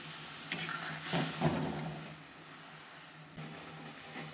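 Prawn brains frying in hot oil with cumin seeds, dried red chilli and bay leaf: a soft, steady sizzle with occasional stirring clatter, fairly quiet and close.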